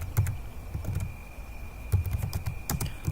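Close, quiet keystrokes on a computer keyboard as a short word is typed, irregular clusters of taps with brief pauses, a faint steady whine in the background.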